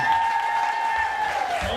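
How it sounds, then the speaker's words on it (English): An audience at a comedy night in Avalon, London claps and cheers steadily throughout, with a dense, continuous wash of applause and no pauses. "I'll keep those hands clapping for Tony Hendricks, ladies and gentlemen."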